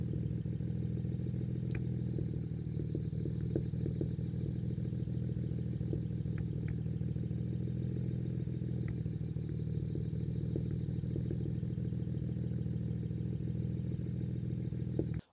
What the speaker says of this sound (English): It was definitely misfiring.